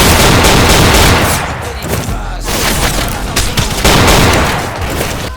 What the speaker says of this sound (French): Cache-toi parce qu'il y a un sniper.